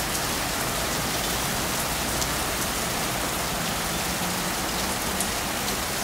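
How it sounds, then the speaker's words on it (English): Small sleet pellets fall steadily and bounce around outdoors under stormy skies, a dense, even hiss of pattering with no letup and no voices. "There are little sleet balls all bouncing around down there."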